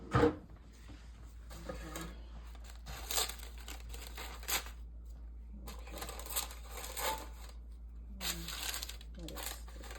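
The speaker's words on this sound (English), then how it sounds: "let me just get my kitchen scissors here, and I'm going to cut around the edges here" Soft crinkling and snipping of kitchen scissors cutting around paper edges in short bursts, close by, with a low steady hum underneath and quiet talk at times.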